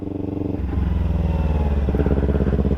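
A sportbike ridden on the road in Malaysia shifts up into third gear: its steady engine drone dips briefly, then settles into a loud, even, pulsing note in the new gear with no talk.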